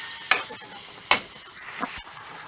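Pork for lumpia fries in a pan while a utensil stirs it, giving a steady sizzle broken by a few sharp scraping strokes, close and clear, with no talking.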